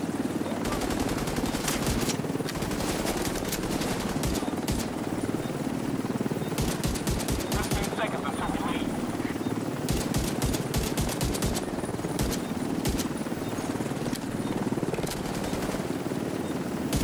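Rapid gunfire in The Division's Dark Zone, with repeated automatic bursts and scattered single shots over a constant loud background, fairly close and sustained throughout.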